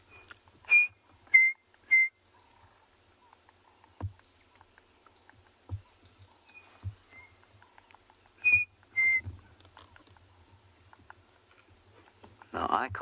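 Chinspot batis birds call in the background on a private game reserve safari: a few short, clear whistled notes, spaced apart and fairly faint, among soft rustles and thumps.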